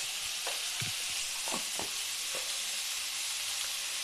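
Potatoes and papaya fry with salt and turmeric in a pan, giving a steady dense sizzle with a few soft stirring scrapes, close and moderately loud, no voices.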